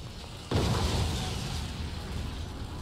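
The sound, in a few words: explosions in video game Resident Evil 2 Remake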